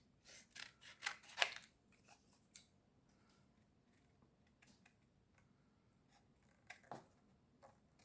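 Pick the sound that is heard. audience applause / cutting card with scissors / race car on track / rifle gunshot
cutting card with scissors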